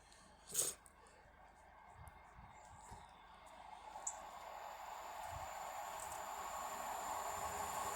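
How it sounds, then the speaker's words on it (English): A pair of coupled Class 150 Sprinter diesel units on a Blackburn to Headbolt Lane service passes Castleton, with a steady rising rumble and broadband roar that builds toward the end. A brief horn-like tone sounds early. "the next train to be coming through will be a pairing of Class 150 Sprinters running from Blackburn to Headbolt Lane"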